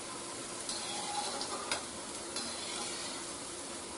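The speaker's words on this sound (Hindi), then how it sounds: "इसको हम हटा लेंगे और करछी से इसे हम चला लेंगे।" Boondi frying in hot ghee gives a steady, close sizzle, and a ladle scrapes and stirs through it in several short, brighter strokes. No one speaks.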